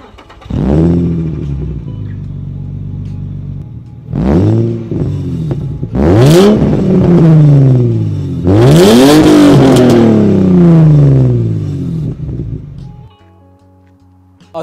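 A car with a 3.5 litre V6 revs hard in several bursts, each climbing and falling, loud and close, with a steady idle between rises and no talk over it.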